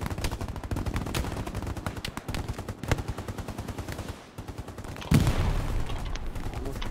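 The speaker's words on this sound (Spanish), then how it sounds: "¿Dónde está el tío que me dispara?" Gunfire in the World War II shooter Hell Let Loose: rapid machine-gun bursts with sharp individual shots, loud and sustained, then a heavier blast before the firing continues.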